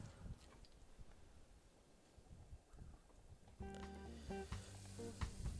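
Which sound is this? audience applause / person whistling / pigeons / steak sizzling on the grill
steak sizzling on the grill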